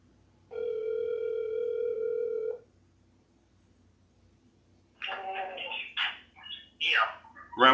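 A single long steady telephone ringing tone sounds clearly for about two seconds, then after a pause a voice speaks.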